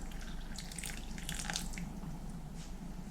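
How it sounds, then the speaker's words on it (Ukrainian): Hot water pours steadily from a kettle over raisins, a continuous soft splashing and trickling stream at close range, fairly quiet, with no talking. "заливаю їх гарячою водою з чайника"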